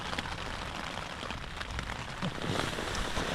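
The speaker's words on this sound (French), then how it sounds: "parce qu'il pleut un peu dehors" Steady rain patters on a tent nearby, a dense continuous hiss of drops with no voices.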